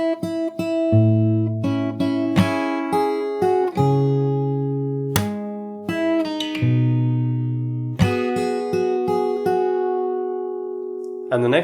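Fingerstyle acoustic guitar plays a song slowly from the start, a steady stream of plucked bass and treble notes with ringing chords and short gaps, close and alone.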